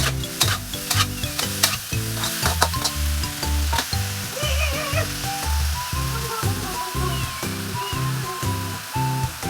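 Bean sprouts, pork blood, tofu and minced pork are stir-fried in a pan with a little sugar and sauce: a steady up-close sizzle under regular, rhythmic scraping strokes of a spatula, with no speech.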